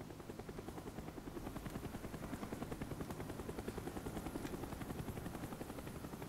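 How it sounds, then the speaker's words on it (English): Helicopter rotor chopping loudly and steadily throughout, a dense rhythmic thump with engine whine in a Call of Duty Black Ops 2 match, no talking over it. "That helicopter is loud."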